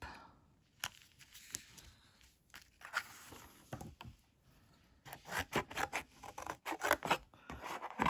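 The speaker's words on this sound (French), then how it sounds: "Ça, on le découpe." Scissors cut through craft material for a snow globe project. Soft rustling and handling come first, then a run of close, crisp snips grows busier toward the end.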